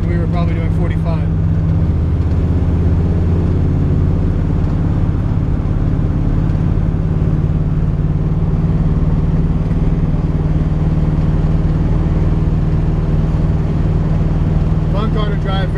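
A 1969 Camaro X11 cruises at speed, its engine giving a steady, loud low drone with road and wind rumble throughout, and brief voices at the start and end.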